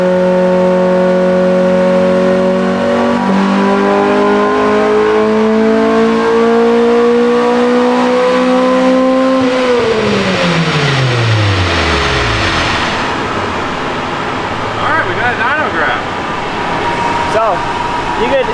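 Car on a dyno with torque control loading it down revs hard, engine pitch climbing steadily then dropping sharply as the pull ends, loud and close, followed by lower rumbling and mechanical noise.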